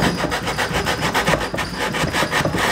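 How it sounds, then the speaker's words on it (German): Coarse sandpaper scrubbing across wood during a loft build: loud, steady, rhythmic rasping strokes that carry on unbroken, with no talking. "Und haben jetzt hier mal so ein bisschen angeschliffen mit dem groben Schleifpapier."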